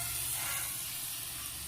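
Onions and tomatoes sizzle and fry in a large pot for a bulk potato masala, a dense, steady hiss of oil and moisture with faint stirring underneath, no voices heard.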